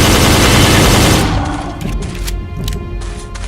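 A shotgun blasts dinosaurs in Jurassic The Hunted with a loud, dense volley of fire that roars for about a second, then falls back to scattered thuds and lingering rumble.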